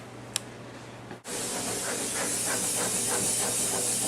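Running tap water rinsing freshly cut potato fries to wash off starch, a steady broadband hiss that starts abruptly after a brief pause and continues loud and unbroken.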